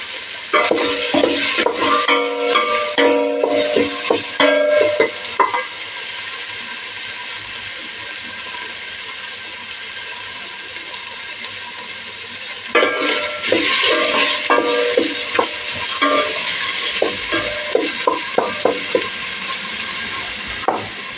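Ingredients for a Turkish pea dish fry and are stirred in a pan, heard as close, loud bursts of scraping and sizzling that pause for a long stretch and then resume, with no talk.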